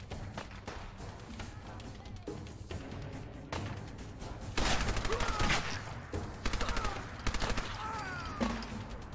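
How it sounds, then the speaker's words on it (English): A Tommy gun in Fallout 4 fires rapid bursts of automatic gunfire in short volleys among other game sounds, loud and close, while a player talks intermittently. "This Tommy gun's really good"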